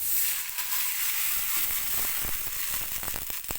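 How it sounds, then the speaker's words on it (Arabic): Vinegar poured into a hot pan for Egyptian koshari sauce sizzles and hisses steadily, with a few sharper crackles and spits toward the end. "هنزل عليهم بشويه ايه الخل دول"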